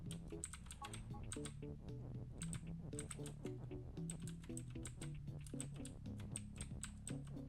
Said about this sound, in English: I should put my mic really close to the mechanical keyboard so the ASMR effect gets really overemphasized